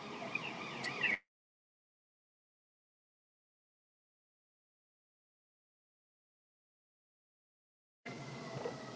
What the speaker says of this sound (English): Had an ambulance come by there, toot the horn.